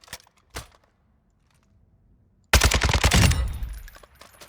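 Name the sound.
RPK machine gun firing in video game Warzone 2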